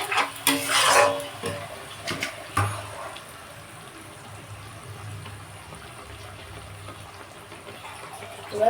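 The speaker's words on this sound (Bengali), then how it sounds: "এই মশলার যে থালাটা ছিল ওটা একটু জল দিয়ে ধুয়ে দিয়ে দিলাম" Water splashes over a metal spice plate as it is rinsed in a kitchen, a brief loud burst of running and splashing up front before fading into a low, steady background hiss.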